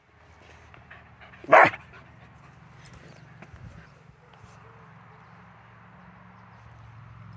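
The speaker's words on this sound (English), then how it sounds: "he does the barking out of frustration" A dog barks in frustration while being trained to leave food alone: one short, loud bark stands out near the start, followed by a quiet room with faint low background noise.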